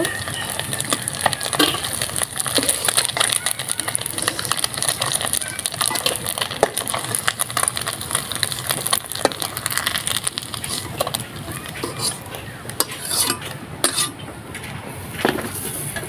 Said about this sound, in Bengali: তো এখন আমি সব মাছই বাটিতে তুলে নেব